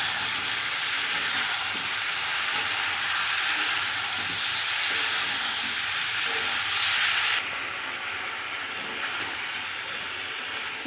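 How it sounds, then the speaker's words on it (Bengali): Fried cauliflower, potatoes and peas tipped into a spice masala and stirred, giving a loud continuous sizzle and hiss that softens partway through. "এবার আমি এতে দিয়ে দেবো ভেজে রাখা ফুলকপি, আলু আর মটরশুঁটি, সব একসঙ্গে দিয়ে দেবো। খুব ভালো করে মিশিয়ে নেব।"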